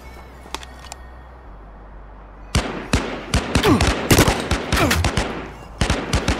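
Loud bursts of video-game gunfire in the battle-royale shooter H1Z1/PUBG, erupting after a quiet opening into rapid, irregular cracks and volleys that continue to the end, with no talk.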